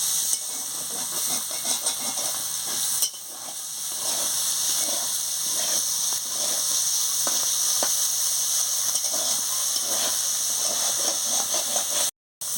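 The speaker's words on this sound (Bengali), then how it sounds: "এইটাকে ভালো করে একটু ভেজে নিই" Gima shak greens frying in a pan, a continuous bright sizzle and hiss with occasional stirring scrapes and small pops, fairly close, holding steady with a brief drop near the end.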